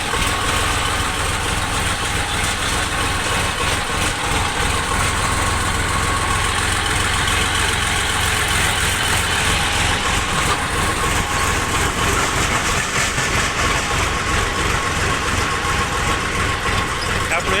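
Tractor engines idle steadily at a marketing yard, a continuous loud low rumble with constant vibration throughout, overlaid by broad background noise and busy yard activity.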